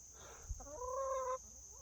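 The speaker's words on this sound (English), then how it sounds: "Chickens are awesome." Backyard chickens make one short cluck, then a longer drawn-out call with a clear tone, heard close and fairly quiet against a constant high electrical whine.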